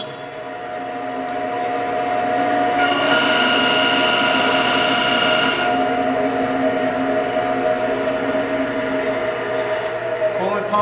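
Sharp VH-3 milling machine with its feed handle making noise: a steady mechanical hum and whine with a tonal drone, loud and close, swelling for a few seconds in the middle and continuing throughout.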